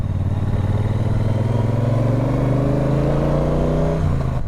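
A motorcycle cruising along a coastal highway in Portugal, its engine droning steadily and loud with a rising pitch as it accelerates, then easing back near the end.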